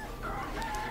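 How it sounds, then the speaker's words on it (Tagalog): A rooster crows as a sound effect in an Ilocano radio drama, one sustained, fairly faint call over a steady background. "Agtaraw kan ti manok ti tarwan."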